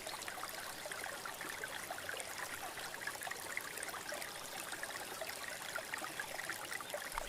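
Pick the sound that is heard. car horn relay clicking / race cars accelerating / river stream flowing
river stream flowing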